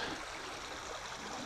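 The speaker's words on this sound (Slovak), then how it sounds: "Kamenistý potok križuje cestu." A stony brook crossing a road babbles and rushes continuously, close to the microphone and at a steady level, with no talk.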